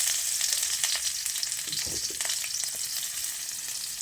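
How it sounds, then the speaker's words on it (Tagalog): Garlic and onion sauté in a pan with a dense, continuous sizzle that holds steady for the whole stretch. Faint stirring scrapes rise briefly in the middle, and there is no talk. "So una, gigisa natin yung bawang at sibuyas."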